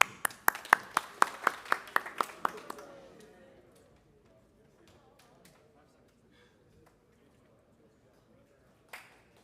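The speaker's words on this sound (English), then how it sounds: "Please join me in a round of applause to welcome our newest law enforcement officers" Brief burst of clapping at a law enforcement officer graduation ceremony for a couple of seconds, then it fades into quiet room noise with a faint thump near the end.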